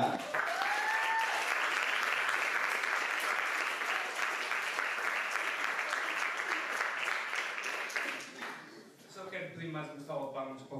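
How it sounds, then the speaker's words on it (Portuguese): Audience at a stand-up comedy show applauds loudly and steadily for about eight seconds before the clapping fades and a voice takes over. "Mais uma salva de palmas para o Vítor Pinto"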